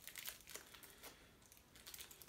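Plastic wrap being peeled and unwrapped from a Blu-ray SteelBook, quiet close-up crinkling in several short bursts with brief pauses between them.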